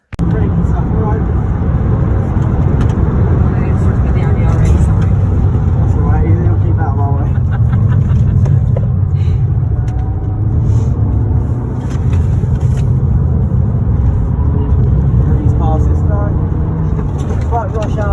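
A Formula Renault single-seater race car driving laps at Thruxton circuit, heard as a loud, continuous, close engine roar with wind rush that persists for the whole stretch, with voices faintly underneath.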